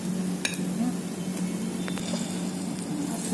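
Oil sizzles steadily as it is drizzled over rava appe frying in an appe pan. The crackle is close and continuous, with a few small pops and clinks.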